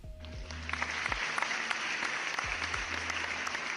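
Canned applause effect on a gaming talk show: steady dense clapping and light cheering from a studio crowd that holds evenly for several seconds, with low background hum underneath.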